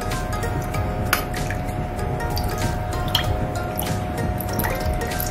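Water boiling in a pan on a gas stove for a semolina chakali dough, a steady bubbling and dripping simmer with small pops and splashes throughout, close and continuous, no voices.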